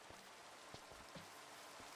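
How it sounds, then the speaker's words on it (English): Video game rain falls as a steady broadband hiss in a resource-gathering game, with a few soft, scattered taps and thuds breaking through the wash at moderate, even loudness and no talking. "And it's raining."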